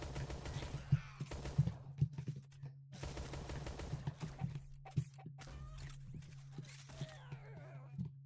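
Rapid bursts of video game gunfire from Shell Shockers crackle in short volleys with brief pauses, fairly faint over a steady low hum.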